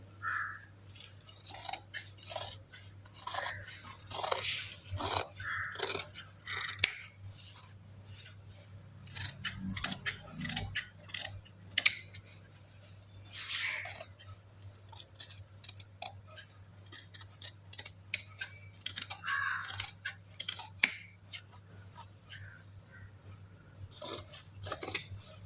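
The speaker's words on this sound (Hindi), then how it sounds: "अब मैं इसकी कटिंग कर दूंगी।" Sharp scissors snip through fabric being cut for a chest-style frock, giving a long series of crisp, close clicks and slicing strokes in irregular rhythm over a faint steady hum.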